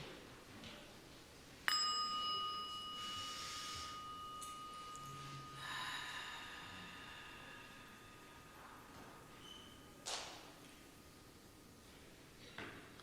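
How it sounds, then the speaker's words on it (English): A single meditation bell is struck once, its clear ringing tone sustaining and slowly fading over several seconds in a quiet room before breathing together begins. "I'm going to ring the bell, and then we'll breathe in together and breathe out slowly"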